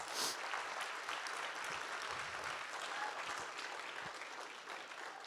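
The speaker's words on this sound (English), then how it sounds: "Let's give a big, beautiful round of applause to the 2 people in the room." Audience applause at a Make-A-Wish charity fundraising event, a steady wash of many hands clapping at moderate, slightly distant level, with no talk over it.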